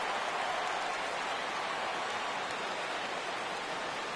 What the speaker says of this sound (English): The rain is intensifying right now.